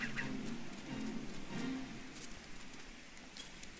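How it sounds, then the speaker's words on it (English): Steady rain hisses in the Final Fantasy 14 video game world, a continuous mid-level downpour with a few brief tonal game sounds early on and no talking. "Pissing down rain."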